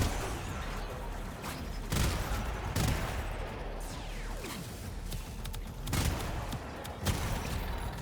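Gunfire in the Warframe video game, played as Mesa Prime: dense, rapid bursts of shots with sharp louder cracks, continuing fairly steadily throughout.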